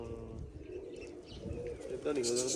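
Pigeons coo softly in a flock on a cold day, low rolling calls with a few chirps and a light flutter of wings, faint and close, mixed with low background voices.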